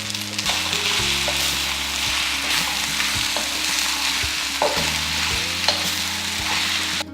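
Beef, broccoli and green onions stir-frying over heat with sweet potato starch noodles, a steady loud sizzle running throughout, broken by repeated scraping and tossing knocks of the spatula against the pan.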